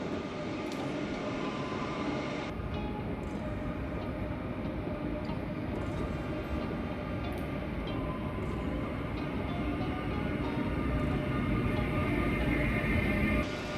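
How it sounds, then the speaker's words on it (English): A train pulls in at platform 5 of a big, high-ceilinged open station in Korea, a steady loud rolling rumble with a squealing brake whine that holds throughout at close range. "Our train is pulling in."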